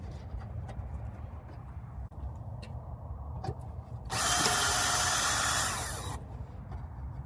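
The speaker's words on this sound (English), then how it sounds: "we're just gonna remove this little bolt right here. This is a 10 millimeter" A 10 millimeter bolt is run out on a Nissan Frontier (D40) during a hood strut install, with a steady low hum, faint clicks, then a loud two-second whir of a power tool.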